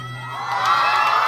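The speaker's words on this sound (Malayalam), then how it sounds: "കോയക്കൊരു കയ്യടി, കുഞ്ഞാപ്പൂരിനൊരു കയ്യടി" A school audience in Pulikkal cheers and shouts as a crowd, children's voices rising in a steady, bright roar that swells slightly over a second or so.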